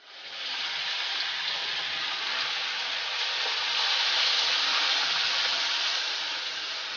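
Hot oil already holding garlic and curry leaves hisses evenly and continuously as ground masala paste goes in for a Malvani dry fish curry. The sizzle is moderate and close, with no speech.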